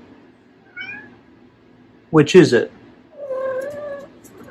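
A house cat meows twice in a home, short close vocal calls on either side of a brief burst of noise, with a person speaking nearby.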